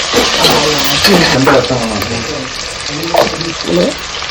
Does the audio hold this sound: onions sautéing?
yes